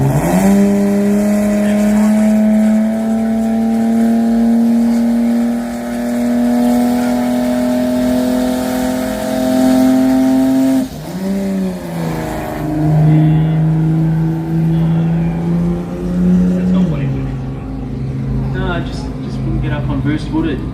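A drag racing car makes a pass down the strip at a Brisbane jamboree, a loud droning engine note rising steadily, then dropping and shifting pitch as it passes, heard under commentary.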